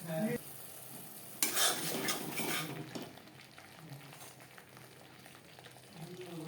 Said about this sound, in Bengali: মশলা বেশ ভালো করে কষিয়ে নেওয়া হয়ে গেছে মশলা থেকে তেল ছাড়তে শুরু করে দিয়েছে